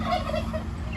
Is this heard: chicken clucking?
yes